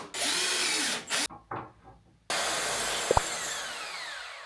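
An electric drill bores into a wall: a loud, steady whine runs for about a second, cuts out, then a second long run starts after a short gap, close by with no talking.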